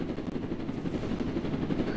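Helicopter in Roblox Jailbreak, a steady dense rotor drone with rapid choppy pulses, loud and continuous without any talk.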